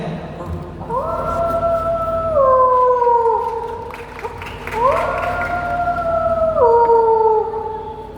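A voice imitates a wolf's howl twice in a school mimicry competition, two long wavering tones sliding down in pitch, loud and close, with a brief pause between them.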